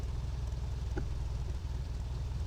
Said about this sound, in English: our engine is not doing full RPM